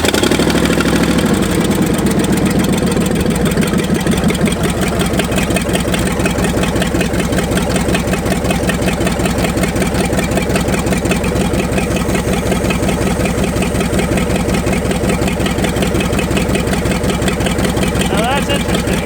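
An abandoned Ford F250 truck, started for the first time in 26 years and needing choke to keep running, idles loudly and steadily with a rough, even mechanical rhythm throughout.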